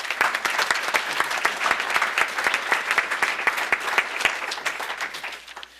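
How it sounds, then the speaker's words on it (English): Audience applause fills a town board meeting: steady, dense clapping from a room of people that holds for several seconds and tapers off at the end, with no talk over it. "Round of applause."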